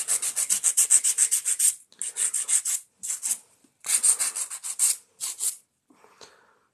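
An 80 grit Dreamer file rasps across acrylic nails in quick back-and-forth strokes, close and crisp, coming in several short bursts separated by brief pauses.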